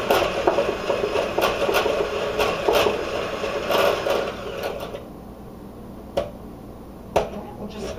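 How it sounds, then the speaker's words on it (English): Hand mixer beating egg whites with granulated sugar until stiff, a steady close whirring drone under light talk that cuts out partway, leaving quiet room tone with a couple of sharp taps. "just beat them either with your hand mixer or your stand till they become stiff"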